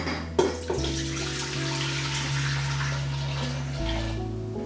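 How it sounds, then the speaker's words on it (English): Six cups of water run into a cooking pot for canning fresh mulberries, a steady rushing pour close by whose pitch shifts as the pot fills. "To this pot, I'm going to add 6 cups of water."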